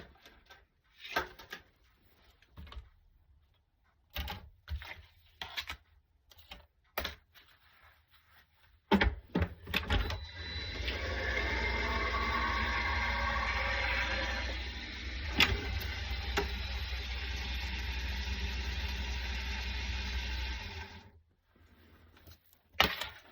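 A die-cutting and embossing machine runs for about ten seconds as white cardstock is fed through, a steady mechanical grinding hum, preceded and followed by close clicks and handling knocks.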